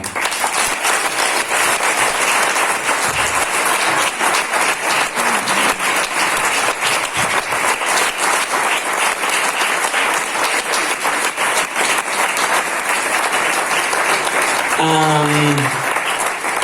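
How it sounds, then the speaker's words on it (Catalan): An audience at a children's theatre performance in 2021 claps loudly and without a break for the whole stretch, with cheering mixed in. A voice comes in briefly near the end. "un fort aplaudiment"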